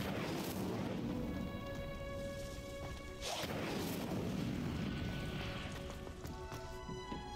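A fire spell cast in Hogwarts Legacy, heard as a sustained, rushing burst of flame that crackles and roars. It swells at the start and again midway, sitting over a busy game soundscape with no talk.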